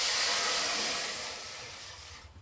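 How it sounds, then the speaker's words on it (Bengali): Water hitting a hot kadai after spices were dry-roasted in it, giving a loud, steady broadband hiss that gradually fades and cuts off near the end, with no talking. "এবারে কড়াইয়ে জল দিয়ে দেবো।"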